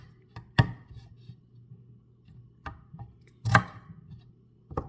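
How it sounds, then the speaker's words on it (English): Knife slicing through boiled potatoes for potato salad, a few sharp cuts spaced apart with a faint hum underneath. "Okay, I'm just gonna slice these up."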